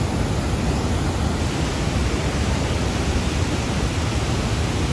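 The waterfall at Panimur in Assam, India, roars loudly and steadily, a dense continuous rush of falling water with no voices.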